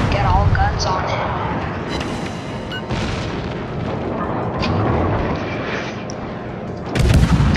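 Naval guns firing in a warship video game, heavy booms and rumbling blasts layered over a dense battle din, with a loud fresh salvo near the end.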